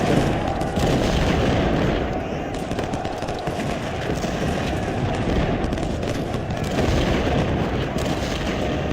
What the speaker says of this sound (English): Artillery, fire right there.